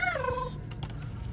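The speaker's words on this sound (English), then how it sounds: "Did I just hear the cat?" A cat meows in a horror video game, a short rising-then-falling cry over a low rumbling ambient drone, faint and alone.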